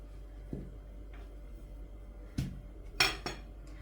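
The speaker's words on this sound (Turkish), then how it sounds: "Hemen ara katı için hazırlamış olduğum tereyağı sıvı yağ karışımımızı şöyle bir karıştıralım" Light clinks of a utensil against a bowl while a butter and vegetable oil mixture is stirred for börek, a few sparse taps spaced apart with a quiet kitchen background.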